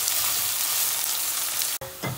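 Onions sizzle in hot oil for an okra curry, a close, dense frying hiss that breaks off briefly and returns with a stirring sound at the end.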